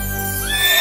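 A horse whinnies in a storybook fairy-tale setting, one short, fairly loud neigh rising over a steady sustained backdrop with no voices.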